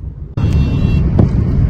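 Road traffic on a Mumbai street on a Saturday morning, heard from inside or beside a moving car: a steady, loud broadband rumble of engines and tyres after a brief quiet start, with no voices.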